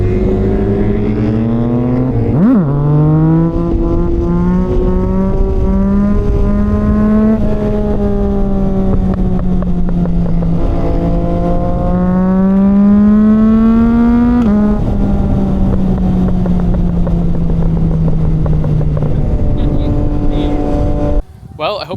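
A Yamaha MT-09 SP motorcycle fitted with a Kelpi exhaust with a high-flow cat, a DNA intake and a VCycleNut tune revs hard and long. Its loud engine note climbs and falls in repeated sweeps.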